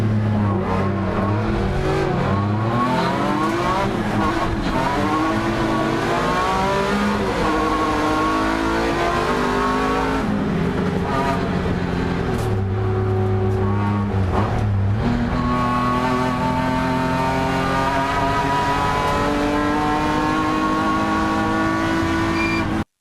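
Loud BMW race car engines rev and accelerate continuously during an Improved Production race start, pitch climbing and dropping through gear changes, with several cars roaring close together.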